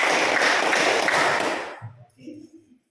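A classroom of students clapping hands four times in unison, a dense burst of loud applause-like claps that quickly stops, followed by brief murmuring voices.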